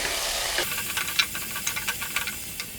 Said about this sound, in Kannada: ಇವಾಗ ಫ್ರೈ ಮಾಡ್ಕೊಳ್ತಾ ಇದ್ದೀನಿ.